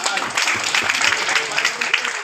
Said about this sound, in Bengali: একটা হাততালি অবশ্যই দিলেন